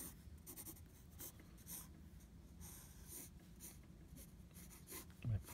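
A pencil makes soft, steady scratching hatching strokes on paper, close and quiet, continuing rhythmically while drawing the head of a hammer.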